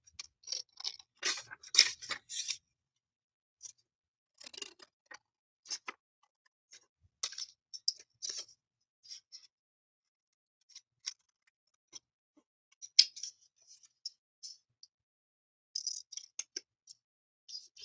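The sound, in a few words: cutting paper with scissors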